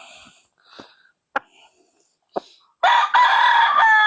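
An Allen Roundhead gamecock, a mature cock from a backyard in San Ildefonso, Bulacan, gives a few soft clucks and sharp calls, then a loud, close, drawn-out crow.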